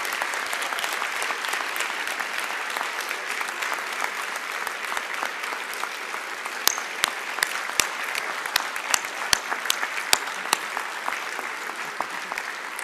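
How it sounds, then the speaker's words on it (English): Steady, dense applause from a large audience at a 2019 Ford School commencement ceremony, continuous throughout with some sharper individual claps standing out near the end. "give a hearty round of applause to all of the people, family, faculty, loved ones who supported you on this journey"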